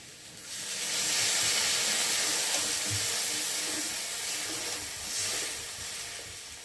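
Water poured into a hot pan of sizzling mixed vegetable curry, a loud broad hiss and steamy sizzle swelling up and holding steady for several seconds, close by with no talk.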